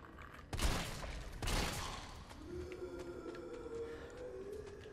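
Two loud shotgun blasts from the Resident Evil 3 video game, one after another about a second apart, each with a heavy boom that rolls into a lingering tail under a low droning game soundscape.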